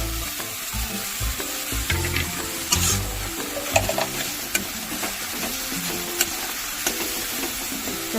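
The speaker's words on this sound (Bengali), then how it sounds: "মশলাটা হালকা হালকা কষিয়ে নিলাম। কাজু বাটা দিয়ে দিলাম 1 চামচ" Spice paste with a spoonful of cashew paste sautés in a pan for doi katla, a continuous close sizzle with repeated spatula scrapes and soft clinks at an uneven rhythm throughout.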